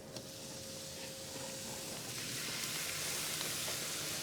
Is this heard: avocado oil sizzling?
yes